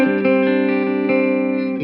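Electric guitar through a Mesa Boogie Nomad amp on its clean channel with digital reverb in the effects loop, a sustained chord ringing steadily with a few soft re-strikes and a reverb tail, no talking.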